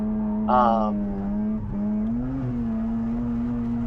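A Mazda FC RX7 with an angle kit drifts on a track in first gear, its engine droning loud and close with a rising rev and a brief tire squeal, while a voice talks over it.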